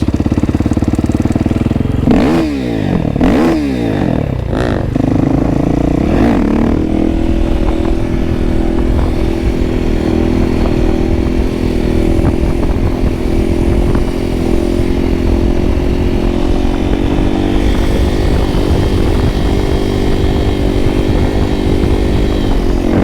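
A motorcycle ridden outdoors while doing low wheelies, its engine loud and close throughout, with a few sharp revving bursts early on that settle into a steady drone.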